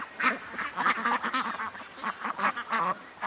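Ducks quack in repeated bursts, a busy flock chattering close by with no voices.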